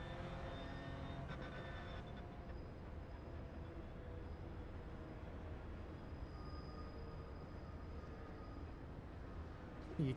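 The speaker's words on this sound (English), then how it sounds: "You can hear the brakes squealing." A steady, loud engine roar of a Porsche Cup race car at Sebring in a racing simulator runs throughout, with a thin high-pitched brake squeal rising above it partway through.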